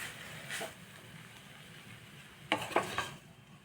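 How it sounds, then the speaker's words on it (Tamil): Spoon scraping and stirring tomato bread upma in a pan with the stove switched off, soft scrapes and clinks in a few quick bursts over a quiet background. "இது ஸ்டவ் ஆஃப் பண்ணிவிட்டு நல்லா மிக்சிங்."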